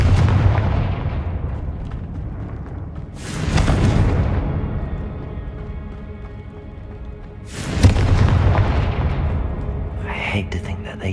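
Confringo fire spells from Hogwarts Legacy going off in two heavy booming blasts a few seconds apart, each trailing into a rumbling decay, with a quieter crackle near the end; a voice speaks over parts of it.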